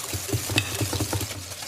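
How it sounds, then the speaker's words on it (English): Sugar being whisked in a bowl during a cooking class, a quick steady rhythm of repeated strokes close by with no voices. "Whisk this up"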